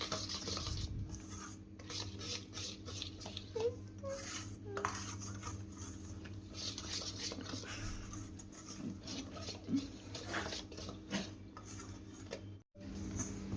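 Maida flour being mixed by hand in a bowl, with steady scraping and stirring scuffs and light clinks of the bowl running throughout, close and moderately loud.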